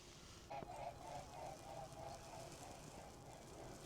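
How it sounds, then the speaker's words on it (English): Faint, distant geese honk several times in a quick run outdoors at the Bryn Celli Ddu burial mound, over a soft hiss of wind. "There go the geese."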